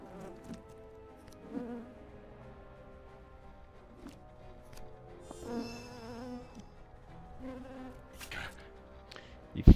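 Buzzing drones from a swarm of bees in the Popup Dungeon video game, wavering and layered, moderately loud with short game effects scattered over them.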